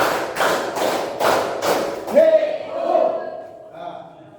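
A group claps hands together in the Tepuk clapping game: about five loud, evenly spaced claps in a steady rhythm, followed by a voice speaking.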